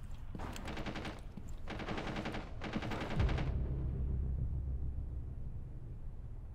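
Rapid automatic gunfire in Rainbow Six Siege comes in three close, loud bursts with short pauses between them, followed by a lower rumbling thud.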